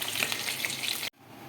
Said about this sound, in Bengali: চিকেনগুলো আমার সব ভাজা হয়ে গেছে, এবার আমি তুলে নিচ্ছি